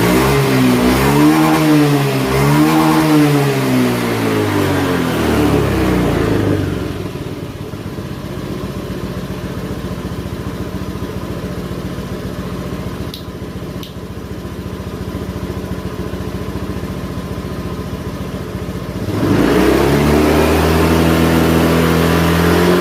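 A Honda Scoopy scooter engine with an idling stop system runs steadily at idle while warming up, loud and close, with brief revving surges at the start and end.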